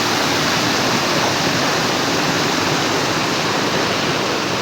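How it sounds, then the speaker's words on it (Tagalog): A stream in Southern Leyte rushes along in a loud, steady broadband roar of flowing water, close and continuous, with no voices over it. "sa ibang sapa to guys"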